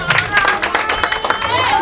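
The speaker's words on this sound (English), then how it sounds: "Please, a round of applause." Audience clapping in a round of applause at a wedding introduction ceremony, dense and sustained with crowd babble mixed in throughout.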